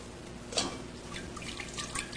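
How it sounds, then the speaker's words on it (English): Dashi stock is poured into a cooking pot in a Japanese kitchen, giving a soft liquid splash and trickle with a brighter splash near the start, moderately quiet and close, with no talking. "Pour it into my pot."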